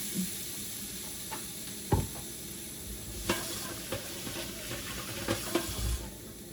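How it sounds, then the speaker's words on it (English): Baby broccoli sizzles steadily in a hot pan while being stirred, with scattered scraping clicks from the utensil over a continuous low frying hiss, moderately quiet and close, with no talking. "stir my broccoli."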